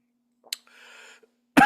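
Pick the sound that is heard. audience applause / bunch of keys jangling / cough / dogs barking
cough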